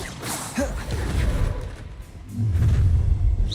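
Spell blasts and booming impacts from a fantasy wizard duel in Hogwarts Legacy, a couple of rumbling explosions with whooshing bursts, the second swelling louder and lower toward the end.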